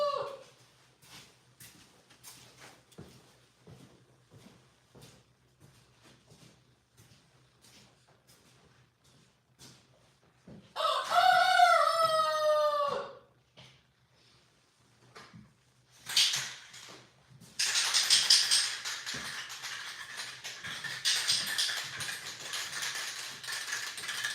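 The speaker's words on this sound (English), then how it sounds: "Oh, stop it, chickens." Chickens crow and cluck in a workshop, a loud crowing burst midway followed by a stretch of busy clucking, with faint clicks and mechanical taps in the quiet gaps.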